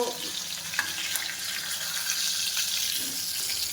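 Fried fish dropped into simmering gravy for a sour mango fish curry, giving a steady close sizzle and bubbling hiss with a few soft splashes and stirring knocks.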